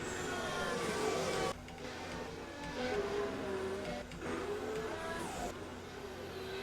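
Racing cars lapping a wet track during third free practice at a 2016 Chinese Grand Prix, engines whining and shifting pitch as several cars pass in turn at moderate distance, with no talk.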